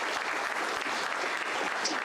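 Audience at an anniversary club dinner applauding, a continuous wash of many hands clapping at moderate distance, steady and even for the whole stretch with no voices standing out.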